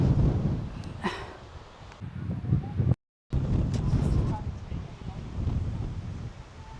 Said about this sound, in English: Bit breezy up here